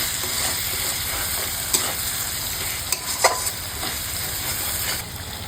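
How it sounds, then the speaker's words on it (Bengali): Spice masala with a whole garlic bulb sautéing in a pan, a steady close sizzle with a few soft scraping stirs, no voices. "মশলা কিন্তু খুব সুন্দরভাবে আমরা কষে নিয়েছি।"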